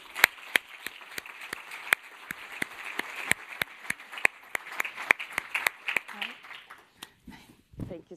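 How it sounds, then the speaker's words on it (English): At the UEFA Women's EURO 2025 qualifying draw, an audience claps for a guest in a steady, evenly spaced beat of sharp claps that fades out near the end, with faint voices in the background. "Ladies and gentlemen, please give a warm applause to Gael Talman."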